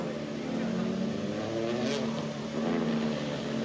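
A car drifting with a steady, loud engine roar and tire noise filling the whole stretch, a brief sharper squeal surging near the middle, heard from inside or close by.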